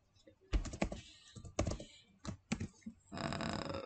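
Keyboard typing of a PHP artisan command for a Laravel project, several distinct close key clicks in short groups, ending in a denser rapid run of keystrokes.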